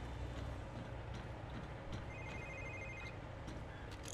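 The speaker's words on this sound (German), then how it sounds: "Telefon." An in-game telephone rings in the James Bond Quantum of Solace video game, a faint repeated electronic trill over a steady bed of background ambience.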